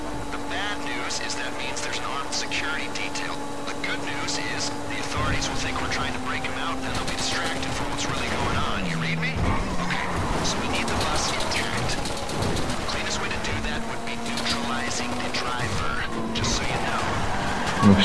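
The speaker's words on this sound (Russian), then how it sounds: "А, этот вертолёт взрывает." A helicopter blown up in the video game GTA 5, with a steady engine drone, gunfire and crashing blasts forming a dense, loud game din, while people talk over it.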